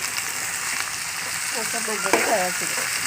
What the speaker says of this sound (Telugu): బాగా ఎర్రగా వేగి బాగా మగ్గుతాయండి